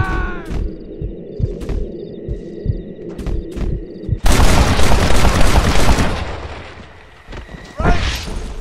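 Gunfire in the Red Dead Redemption video game: a few sharp, spaced shots ring out over a low hum, then a dense roaring barrage erupts and fades before a final loud burst; voices speak early on.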